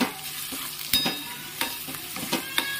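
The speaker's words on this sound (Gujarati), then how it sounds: "બધું સરસ મિક્સ કરી લઈએ" Spiced papad sabzi with hing, garam masala and salt is stirred in a pan, giving soft frying hiss and several distinct spoon scrapes in quick succession, close and moderately quiet.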